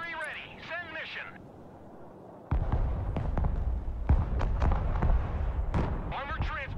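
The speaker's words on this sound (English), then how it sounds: "Mobile artillery ready. Send mission." Mobile artillery fires in the real-time strategy video game Broken Arrow: heavy, distant booms and sharp impacts punch through a constant rumble of battle after a brief radio-style voice line at the start.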